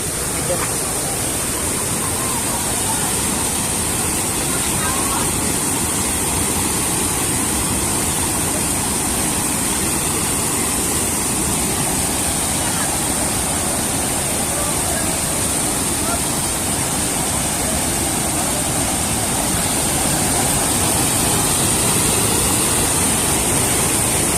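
Strong current at Talon Pari Falls in DRT, Bulacan, a dense continuous roar of rushing water, loud and close for the whole stretch, with voices faintly mixed in.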